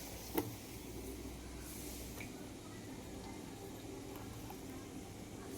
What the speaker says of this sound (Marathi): असे आपल्याला इथे दोन दोन वडे मी तळून घेत आहे